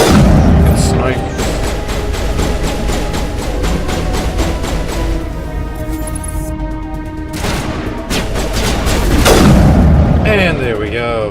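Dense, loud gunfire and booming sniper shots from the Mass Effect video game, rapid repeated bursts filling the whole stretch with sharp electronic effects.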